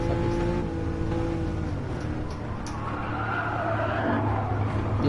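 A sports car oversteering on the Nürburgring Nordschleife in a racing game, tyres skidding and squealing against a steady engine drone, loud and continuous throughout.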